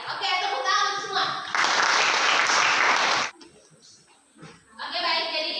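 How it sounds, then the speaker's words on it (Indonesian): Schoolchildren in a classroom clap for everyone in a burst of close, energetic applause lasting under two seconds. Chatter and voices come before and after it. "tepuk tangan untuk semua"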